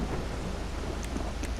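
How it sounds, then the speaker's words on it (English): Thunderstorm in GTA Online: a dense, steady wash of rain and rumbling storm noise with a couple of faint sharp crackles, continuous and fairly loud with no voices. "Apparently it's a little bit of a thunderstorm going on"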